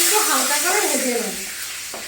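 Bay leaves and dried chili lightly frying in hot oil, a loud steady sizzle with hissing that settles slightly toward the end.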